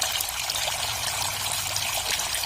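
Water runs steadily through the drip irrigation system of a golden apple snail pond, a continuous close trickling and pouring stream with no voices.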